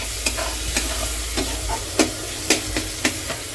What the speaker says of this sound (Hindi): सिंपल प्याज टमाटर का तड़का लगाया है मैंने।